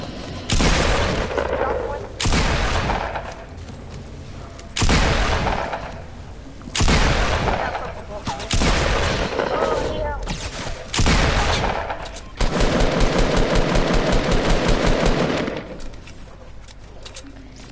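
Gunfire in the video game Squad, with loud repeated bursts of shots and heavy booms, and a rapid automatic volley near the end, heard alongside players' talk.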